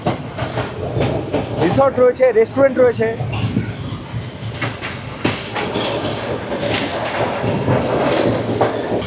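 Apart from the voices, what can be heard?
Colombo to Galle train running along the coast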